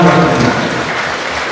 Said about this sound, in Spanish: Un aplauso para todas sus familias.